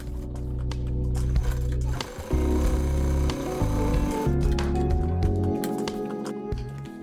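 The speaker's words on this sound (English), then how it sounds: "I first sew with a thinner seam allowance around 2 millimeters and make sure that all parts are even." Sewing machine running steady bursts of stitching on waste-paper backpack panels, a loud, continuous mechanical whir and thrum that briefly pauses and changes speed between seams.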